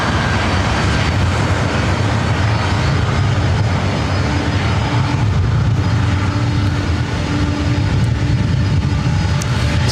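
A 27-year-old Boeing 767-300ER jet airliner at Los Angeles airport roars loudly and steadily for the whole stretch, a broad dense engine rumble with no break and no talk.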